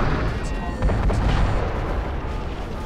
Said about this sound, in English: Firing LRMs.